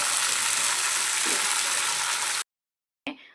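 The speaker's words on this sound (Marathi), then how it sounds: "आणि त्यानंतर थोडंसं तेल टाकून आपल्याला छान असं भाजून घ्यायचं आहे" Black horse gram roasting in a wok, producing a dense, steady crackling sizzle up close that cuts off abruptly and then briefly returns.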